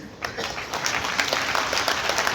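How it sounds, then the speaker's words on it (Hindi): Applause from a large crowd at a political rally speech, a brief burst of many hands clapping that comes across fairly distant and even, with a faint hint of voices mixed underneath. "बजा ली तालियां"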